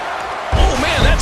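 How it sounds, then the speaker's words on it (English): An arena crowd at a wrestling show roars, with a heavy thud partway through as the noise swells and a voice talks over it. "Would you listen to this crowd show their appreciation for these amazing competitors?"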